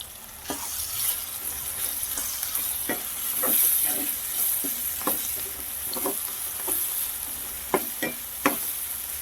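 Onion pieces and salt cook in a pan for a prawn gongura curry, giving a steady close sizzle broken by a run of short stirring scrapes and taps.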